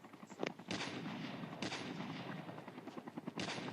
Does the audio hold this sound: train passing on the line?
no